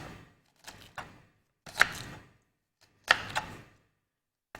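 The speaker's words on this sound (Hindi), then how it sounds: "आप मोटी मोटी भी प्याज को चॉप कर सकते हैं।" Onion chopped with a knife on a board, a handful of separate close, crisp cuts in an uneven rhythm with quiet pauses between them.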